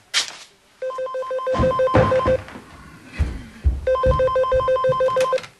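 A telephone bell rings indoors in two bursts of rapid trilling rings, loud and close, with household clatter and movement between the bursts.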